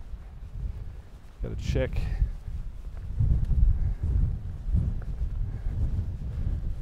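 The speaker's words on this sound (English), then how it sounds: "But today's pretty bad too with the wind." Wind buffets a camera microphone during an outdoor walk in the Iranian mountains, a steady low rumble with gusty swells throughout, while someone speaks briefly near the start.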